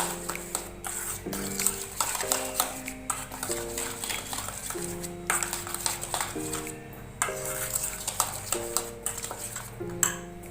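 A spoon stirs a mango custard ice cream mixture in a bowl, with repeated soft scraping and light clinking strokes in a steady rhythm over quiet background music.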